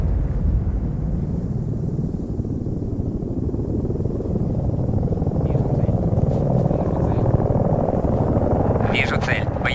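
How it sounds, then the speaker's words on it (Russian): Combat helicopter in a video game, a steady low rotor drone and engine rumble close by for the whole stretch, with faint higher clatter near the end. "Вижу цель. Боевой вертолет."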